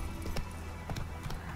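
Horse hooves clip-clop in The Witcher 3 video game, a handful of quiet, evenly spaced hoofbeats at a walking pace, faint and soft.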